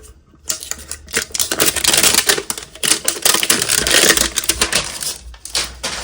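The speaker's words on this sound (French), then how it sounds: "Enlever le plastique." Plastic wrap is torn off a Pokémon Koraidon EX card box, giving close, continuous crinkling and crackling bursts.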